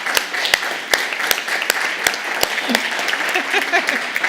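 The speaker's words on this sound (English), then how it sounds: "And one more round of applause." Audience applause fills a Toastmasters district speech contest hall as a first-place finisher is announced, steady dense clapping from a crowd with a few sharp, louder claps standing out near the front and faint voices mixed underneath.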